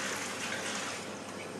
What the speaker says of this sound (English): tip the dirty water away